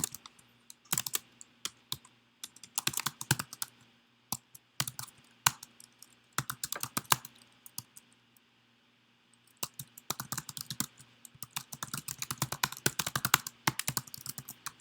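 Rapid typing on a computer keyboard, close and crisp, with bursts of clicking keystrokes separated by short pauses and one longer silent gap midway before a dense flurry resumes.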